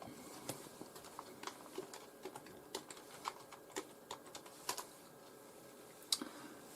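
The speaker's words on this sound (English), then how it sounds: "Or I can look it up by typing it in the search window" Typing on a computer keyboard into a search window, heard as a faint, irregular patter of soft key clicks running continuously with a few slightly sharper taps.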